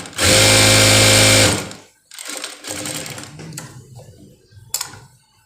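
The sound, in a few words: sewing machine stitching a blouse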